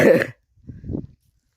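A single short, sharp cough from a person, followed by a brief low throaty sound, with quiet in between and afterwards.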